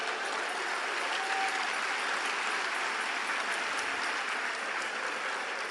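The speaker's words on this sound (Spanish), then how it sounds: "Un aplauso al Señor." A church congregation applauds during a service, a steady, even wash of many hands clapping that holds throughout without pause or voices.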